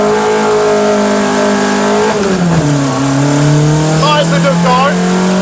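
A Renault R5 rally car, Le Mans Edition with close-ratio gearbox, pulls hard from a standing start on a main road, its engine revving loud and close as it climbs through the gears with a clear dip at a gearchange.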